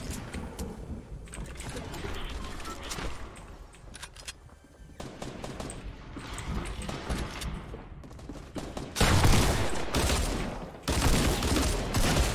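Dual pistols fire in the Fortnite video game in rapid, dense bursts of shots, with sustained rattling volleys and a louder, heavier barrage near the end.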